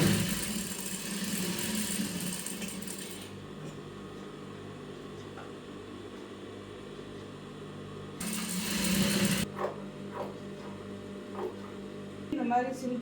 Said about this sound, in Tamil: இந்த லைனிங்கை அதே மாதிரி நான் அடிச்சுக்கிறேன்.